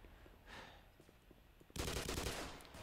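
An assassin fires at close range in Black Mesa: a sudden loud, sustained burst of rapid gunshots cuts in after quiet thumps and lasts to the end.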